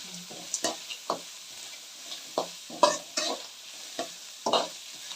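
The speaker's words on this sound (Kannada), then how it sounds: "ಈರುಳ್ಳಿ ಚೆನ್ನಾಗಿ ಎಣ್ಣೆಗೆ ಬೇಯಬೇಕಾಗುತ್ತೆ." Onion frying in oil for capsicum chitranna, a quiet sizzle punctuated by repeated short, sharp scrapes and clacks of a spatula stirring the pan at an uneven rhythm, with no voices.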